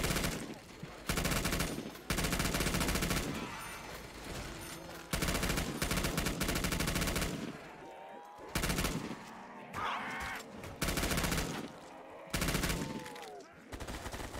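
Bursts of rapid automatic gunfire from a PP submachine gun in a first-person shooter, loud and close, several sustained volleys with brief pauses, a voice talking faintly in between.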